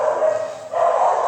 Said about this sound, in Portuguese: Essa mulher, Edith, só peço pra vocês fingir que vocês não estão escutando os cachorros latindo